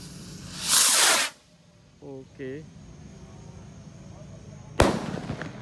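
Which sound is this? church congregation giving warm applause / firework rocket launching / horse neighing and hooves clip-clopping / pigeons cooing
firework rocket launching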